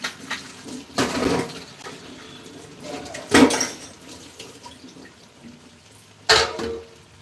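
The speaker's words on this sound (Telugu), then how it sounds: "గ్లాస్ వాటర్ పోస్తా" Water is poured from a glass into a cooking pot for rice in three separate splashing bursts with quieter gaps between them. The pours are close and fairly loud, with no talking.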